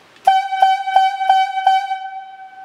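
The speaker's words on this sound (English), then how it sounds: "For a climber, it's going to sound like this." Highlead logging whistle giving the signal for a climber: five short, evenly spaced blasts of a loud, clear steady tone with strong harmonics, the last one trailing on, with no talk.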